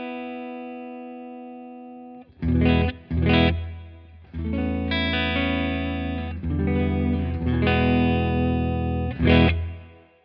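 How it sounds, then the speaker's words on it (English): Electric guitar through a modded Bad Cat Black Cat 30 amp with reverb, played fairly clean. Sustained chords and a few short strummed hits ring out loud and alone, and each one trails into a broad wash of reverb. "You can hear it's a big sounding reverb"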